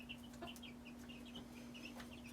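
Backyard chickens from a farm store cluck softly in a steady series of short calls, faint against a low background hum.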